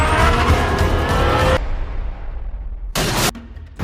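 A car chase in a film, where a pistol is fired at a car: a roaring engine and loud crashing noise give way to a sudden sharp burst, then a second abrupt blast, with no voices.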